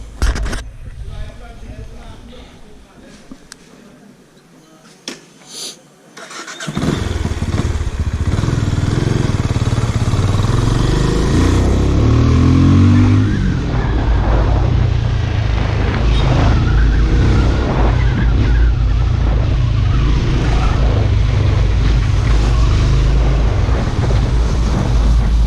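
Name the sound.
Benelli Imperiale 400 motorcycle starting and riding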